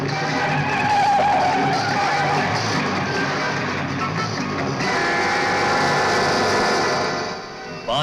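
A car in a 1980 Bollywood film drives hard with tyres skidding and squealing, a loud, continuous engine roar under a screeching slide that eases off near the end.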